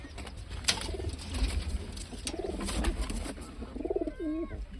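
Pigeons coo in repeated rolling phrases close by, with a few sharp flutters and clicks of wings in between, forming a busy loft chorus.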